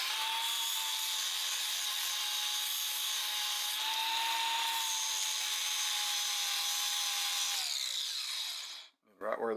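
Power grinding on a lathe tool holder with 120 grit abrasive: a steady, loud whirring grind with a high whine that holds for about eight seconds, then winds down and stops, followed by a brief clatter.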